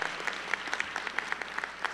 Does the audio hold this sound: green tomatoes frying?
no